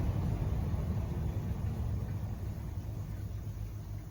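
An air source heat pump for a koi pond runs its fan in silent mode, giving a low, steady rumbling hum, close and continuous with no change in level.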